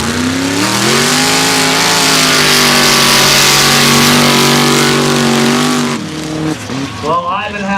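A short-wheelbase mud drag race car with a 2.5 liter Subaru motor on nitrous roars loudly and steadily at the 2018 Valemount mud drags before the sound drops off abruptly, with an announcer talking over it.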